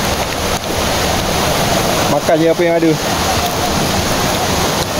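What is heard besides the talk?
Jangkar Waterfall in Lundu, Sarawak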